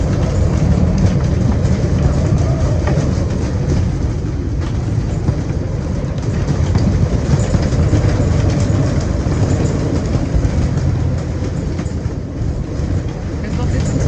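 Strong 40-knot wind and large waves pressing on a sailboat at sea, heard as a constant loud, dense roar of rushing air and water that never lets up.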